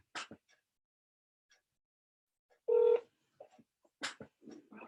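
Telephone dialing tones as a call is placed to reach a voicemail: short, sparse tone bursts spaced across several seconds with a brief louder tone near the middle, quiet and close, no talking.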